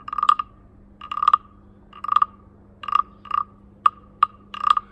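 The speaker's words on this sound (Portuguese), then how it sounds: "E deve tocar o instrumento do rabito para a cabeça" A wooden frog guiro (sapo) scraped along its ridges from tail to head, producing a series of short rasping, croak-like strokes in an irregular rhythm, close and clear with no talk.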